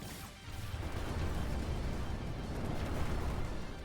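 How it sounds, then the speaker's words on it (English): Dense, continuous burst of crackling, zappy electronic explosions from the video game Neon Striker, loud and sustained with no pauses. "Zappy explosions."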